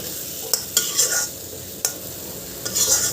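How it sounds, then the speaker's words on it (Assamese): Spices frying in oil for a jackfruit curry, a soft continuous sizzle broken by several sharp spatula scrapes and stirring strokes against the pan. "মছলাখিনি ভাজি হৈছেগৈ, অকণ অকণ তেল ওলাইছে"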